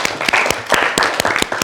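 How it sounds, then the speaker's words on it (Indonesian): Short burst of clapping from a classroom group applauding a student named Fabian, a handful of hands clapping near and unevenly for under two seconds. "Tepuk tangan Fabian."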